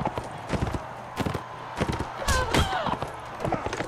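Horse hooves clip-clopping in the medieval combat game Mount and Blade: Warband, irregular sharp thuds at close range mixed with clashes, a whinny and battle noise.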